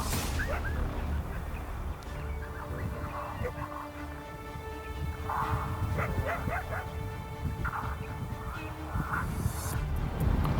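Hunting dogs in Montana yipping, whimpering and barking while working coyotes, a scattered run of excited calls at middle distance over steady outdoor noise.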